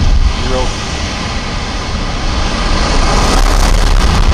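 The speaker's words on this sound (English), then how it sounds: "And liftoff. Falcon 9 has cleared the tower." Broadband roar of a SpaceX Falcon 9 rocket at liftoff, a loud continuous rumble that holds steady and swells slightly near the end, with a commentator's voice running over it.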